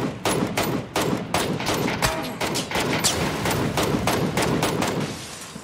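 Rapid gunfire in the PUBG battle royale game, with teammates shooting at a glider; dense repeated bursts of shots keep up loudly and steadily through the whole stretch.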